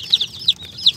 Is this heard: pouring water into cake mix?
no